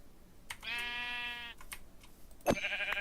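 A video game sheep bleats once in a long wavering cry, followed by scattered clicks and a second shorter bleat near the end, fairly close and clear.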